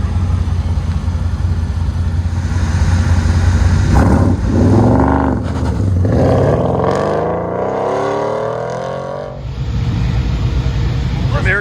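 A black truck races around an autocross course, its engine revving and droning loudly and steadily under a commentator's voice, with rising and falling pitch sweeps as it accelerates through the middle stretch.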